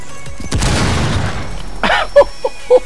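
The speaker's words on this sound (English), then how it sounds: "I have a flashbang." A flashbang grenade detonates in Rainbow Six Siege with a sudden loud bang that decays into a lingering wash of noise, followed by a few short voice snippets.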